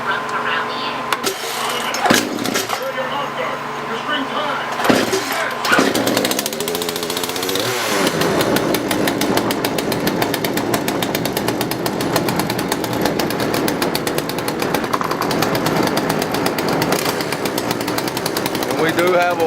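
A Poulan Pro PP4218A 42cc chainsaw sputters through a few rough bursts, then settles into a loud, continuous close-up buzz, with a person talking over the early part.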